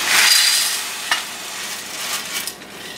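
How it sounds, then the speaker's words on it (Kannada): Roasted hurigalu grains tipped into a plate give a short rush of dry rattling and pattering, loudest at the start and then thinning to a few scattered clicks. "ಈ ಕಾಳನ್ನು ತಟ್ಟೆಗೆ ಹಾಕ್ತೀನಿ"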